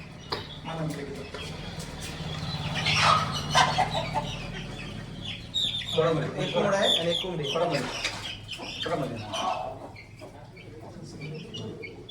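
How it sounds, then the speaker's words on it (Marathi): Rooster on a poultry farm giving repeated clucks and calls amid other fowl, fairly close, with someone speaking in between. "एक कोंबडा"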